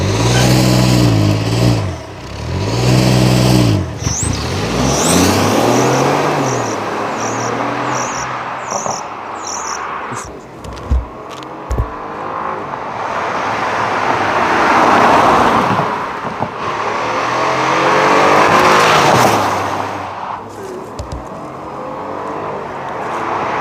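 A Porsche Macan engine revs and accelerates, rising and falling in pitch, loud and near, with a constant insect-like buzz and road noise beneath.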